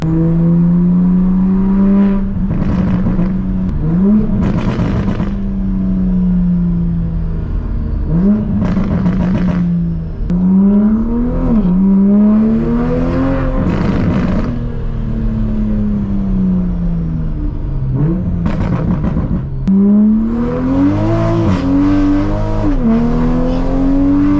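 A Toyota Supra driven on the road, its engine revving up through repeated gears with rising whine and shifts, loud and close from inside the car, with short bursts of wind and tire noise between pulls.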